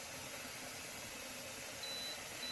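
An electric pressure canner processing potatoes gives two faint, thin beeps over a constant loud hiss of venting steam.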